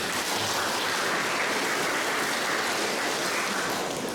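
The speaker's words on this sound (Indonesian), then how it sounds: "Tepuk tangan." A crowd at a university graduation ceremony claps together in sustained, dense applause that holds steady throughout, loud and close with no voices rising above it.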